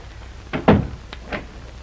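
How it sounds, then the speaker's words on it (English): A door on a boat in a 1932 film is opened with a short wooden thunk and rattle, followed by a fainter knock-like sound, heard close with no talking. "Open the door."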